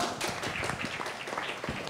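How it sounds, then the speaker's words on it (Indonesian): Audience applause after a panel talk at a Jakarta film festival: dense, continuous clapping at moderate, steady volume with no voices over it. "Tepuk tangan dulu untuk Pak On."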